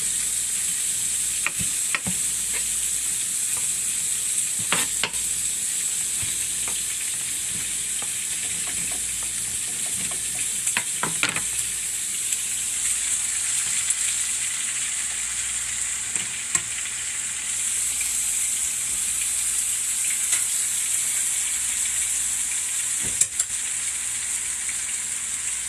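Bolognese sauce sizzles and fries steadily in a pan in a home kitchen, with a constant bright hiss. Occasional clinks and scrapes of stirring come through, and nobody speaks.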